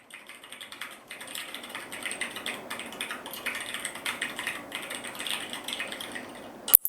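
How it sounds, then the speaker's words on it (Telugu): AI-generated typing on a computer keyboard: a steady, soft clatter of keystrokes throughout, fairly quiet and close, ending with one sharper click. "నెక్స్ట్ ఒక పర్సన్ కీబోర్డ్లో టైప్ చేస్తున్నారు"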